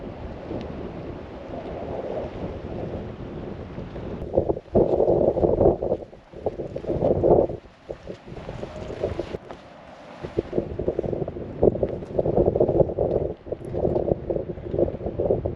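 Strong wind gusts through a Himalayan river canyon along the Kali Gandaki in Mustang, a steady roaring rush that surges and buffets against the microphone in waves, with brief lulls, no voices.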